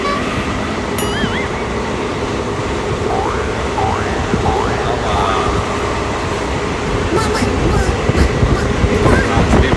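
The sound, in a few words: passenger train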